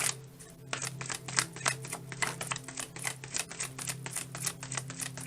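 Tarot cards are shuffled in quick succession, with a close, steady train of crisp riffling clicks and flutters that lasts several seconds without talking.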